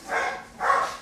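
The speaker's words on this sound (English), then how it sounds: "My dogs are going crazy because my husband's getting home from work" Dogs bark excitedly indoors, two loud close barks in quick succession with no talk over them.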